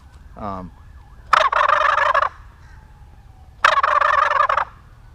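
A shaker turkey call imitates a gobbler with two loud bursts of rapid gobbling, each about a second long, separated by a pause, with a faint wavering hum underneath.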